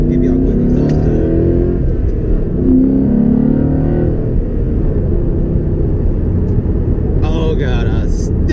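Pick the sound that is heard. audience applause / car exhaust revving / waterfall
car exhaust revving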